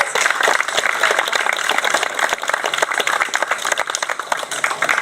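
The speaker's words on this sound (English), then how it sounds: "Let's give her a round of applause." Audience applause at a county fair volunteer award ceremony, a steady dense wash of many hands clapping throughout, fairly close and loud, with no talk over it.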